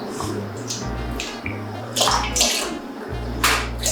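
Water is poured into a pot of pumpkin porridge thickened with glutinous rice flour, making a close, continuous splashing stream with a few bright spattering bursts.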